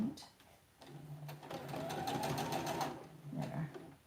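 Sewing machine running in a steady burst to restitch the top edge of a quilt top, loud and close, with brief quieter starts and a short second run near the end.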